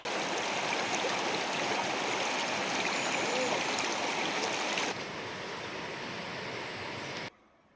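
Stream water running across a flooded hiking path on a trail in south west Ireland, a steady close rushing flow that drops slightly in level partway and then cuts off, no one speaking.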